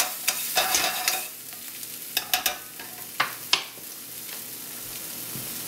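Food stirred in a frying pan while making chicken marsala, with a spoon clacking and scraping against the pan several times over a steady low sizzle, fairly close and with no one talking.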